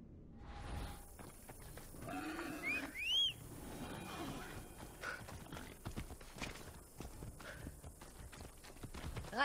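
Hooves of the horse Phobos clop steadily across the ground in Assassin's Creed Odyssey, a quiet continuous rhythmic gait with a brief whinny-like sound early on.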